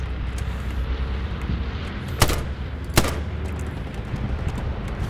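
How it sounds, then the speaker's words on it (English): Two sharp, heavy blasts from a bombing run in Hell Let Loose crack out less than a second apart over a continuous low battlefield rumble. "Hitting it with a bombing run"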